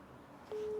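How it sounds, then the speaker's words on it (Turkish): A phone call tone begins halfway through as a steady, clean electronic beep that holds without a break, over faint background hiss. "Şimdi aramayı başlattım. Çalıyor. Çalıyor."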